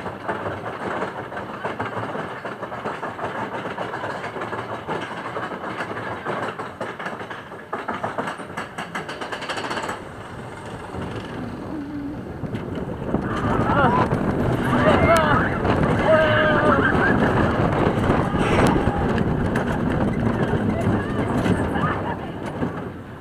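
Gold Rusher roller coaster at Six Flags Magic Mountain, heard from a rider's seat: a steady loud rattling rumble with wind buffeting that swells louder in the second half, with people talking over it.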